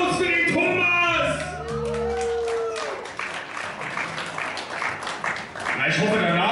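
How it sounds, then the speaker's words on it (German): Shouts and cheers from a concert crowd in a Berlin club give way to sustained applause and clapping, loud and close throughout. "Großer Applaus für den Thomas!"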